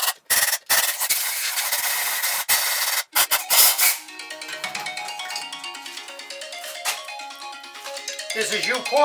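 A phone's ringtone sounds during an incoming call in a garage where a Honda D16Y7 engine is being torn down. Broadband rasping and blowing noises come first, then the tonal ring rises alone and repeats.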